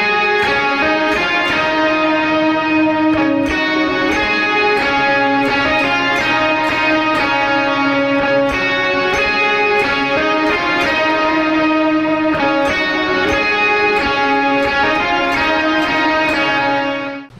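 Distorted electric guitar riff played through a Valeton GP200 multi-effects unit with the pre-block and distortion engaged, a dense sustained chorus part for a song, steady and loud throughout with rhythmic strummed accents and no talk.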